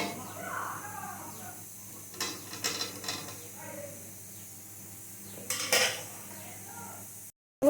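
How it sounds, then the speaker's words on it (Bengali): Soybean chunks go into spiced masala in a wok, bringing a few metallic clinks and scrapes of a utensil against the pan, with sharp bursts near the start and middle over a quiet background. "এবার এর মধ্যে আমি সয়াবিনগুলো দিয়ে দেবো।"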